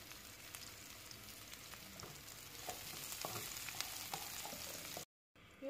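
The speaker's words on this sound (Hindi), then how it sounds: "अब मैं इसमें डालूंगी प्याज। प्याज को हम सौटे करेंगे" Onions sautéing in hot ghee in a pan, a steady close sizzle and crackle with occasional stirring scrapes, briefly cutting out near the end before resuming.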